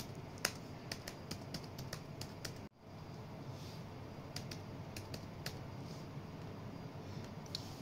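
Typing on a computer keyboard to enter a name into a spreadsheet cell: quick, light key clicks in uneven bursts with a brief pause partway through, close and fairly soft over a steady low room hum.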